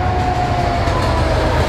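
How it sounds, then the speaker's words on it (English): A fast train rushes past at close range, a loud, steady roar of rail noise with rumbling wheels and a faint high squeal, no voices over it. "Oh, there goes another train."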